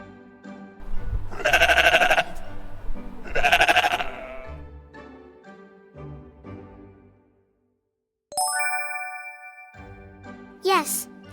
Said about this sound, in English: Yes, it's a sheep.